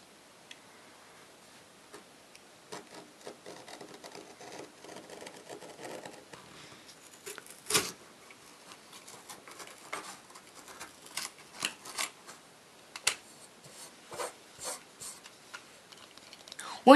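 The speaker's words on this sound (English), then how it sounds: "Now I just have to cut the triangle out." Scissors snip through a sheet of paper to cut out a triangle, producing a run of short, crisp cuts that come close and get louder toward the end, with no talking.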